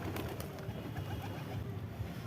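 Giribaz high-flying pigeons coo softly in low, rolling murmurs against a quiet background.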